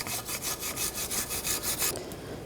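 Rust is scrubbed off a Volkswagen Jetta brake caliper bracket with a wire brush in about ten quick, rhythmic rasping back-and-forth strokes, close up and alone.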